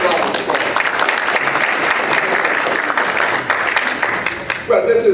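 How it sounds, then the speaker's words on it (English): An audience at an African American prostate cancer disparity summit gives a panel a round of applause, with full, sustained clapping throughout and a voice rising over it near the end. "Give them a round of applause."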